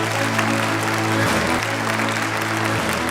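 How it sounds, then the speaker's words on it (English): An audience at a digital entertainment awards show claps in steady, dense applause throughout, with a low electrical hum running underneath. "Big round of applause for the team of Made in Korea."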